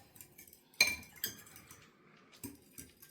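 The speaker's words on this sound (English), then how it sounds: "let me get a fork so I can stir this together" A fork clinks against a bowl while stirring a yeast mixture for beginner bread dough: a few sharp, light metallic taps spaced irregularly, fairly quiet and close, with no talking.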